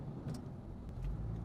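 Road traffic heard from inside a car, a low steady rumble of engine and tyres with a couple of faint passing swishes, no talking.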